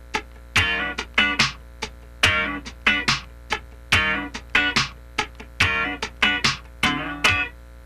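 Funk rhythm guitar plays a ninth chord slide with the left hand lifted on the third sixteenth, producing choppy, syncopated chord stabs separated by short muted gaps in a repeating groove, close and unaccompanied.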